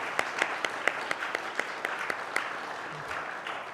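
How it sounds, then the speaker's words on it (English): Audience applause at an international conference session, a steady wash of clapping with distinct sharp claps recurring at a brisk, fairly regular rhythm, moderately loud and close, with no talk over it. "So let's give them a round of applause."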